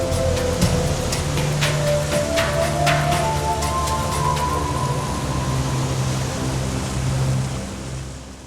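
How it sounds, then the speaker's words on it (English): A storm at sea drives heavy rain in a loud, steady broadband wash, with a low tonal hum beneath it that eases off slightly near the end. "After a few days, the ship got caught in a bad storm."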